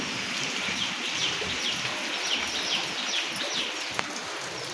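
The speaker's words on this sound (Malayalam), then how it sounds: "ഇതാ നല്ല മഴയാണ് കേട്ടോ ഇന്ന് കുറച്ച് മഴ പെയ്യുന്നുണ്ട്" Light rain falls steadily in a soft, even patter, with a few faint bird calls in the background and a small click near the end.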